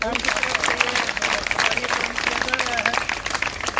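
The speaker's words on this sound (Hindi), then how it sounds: "तालियां बेटा" Children clap at a village school charity event where sandals are handed out, the clapping loose and uneven, mixed with overlapping chatter and voices throughout.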